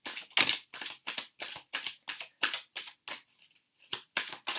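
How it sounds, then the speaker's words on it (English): Tarot cards are shuffled by hand up close, a quick series of about a dozen crisp riffling bursts in an uneven rhythm with short pauses between them, no voices. "And I am just going to shuffle these cards."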